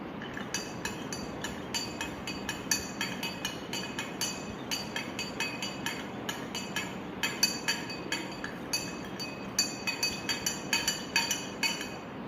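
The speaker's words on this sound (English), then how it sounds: "I'm going to stir the sugar solution once again." A spoon stirs sugar solution in a glass, giving a steady, fast run of bright, close clinks against the glass that continues without pause.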